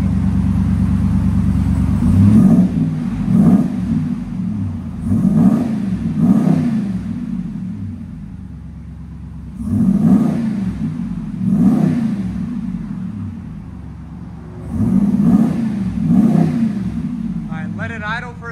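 A Ram pickup's 6.4L V8 with a modified exhaust rumbles at idle, then surges into three separate bursts of revving with quieter idle between them. It sounds close and heavy, and voices can be heard faintly at times.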